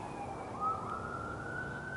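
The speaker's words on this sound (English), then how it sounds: "Sirens?" An emergency vehicle siren wails faintly in the distance, a thin rising tone held steady above low background rumble.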